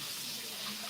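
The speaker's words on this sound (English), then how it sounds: "Now let me rinse them off." Tap water runs steadily over raw T-bone steaks being rinsed in a kitchen sink, a continuous close hiss and splash with no break and no talking.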